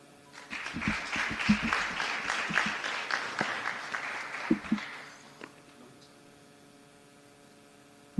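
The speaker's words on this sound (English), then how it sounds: "Another round of applause, ladies and gentlemen, for our Custos" An audience at a breast cancer symposium applauds for the Custos of Westmoreland, a steady mid-distance round of clapping for about five seconds that fades out to a quiet room hum.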